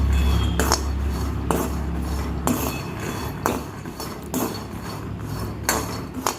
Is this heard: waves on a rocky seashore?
no